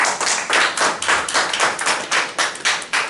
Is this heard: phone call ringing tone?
no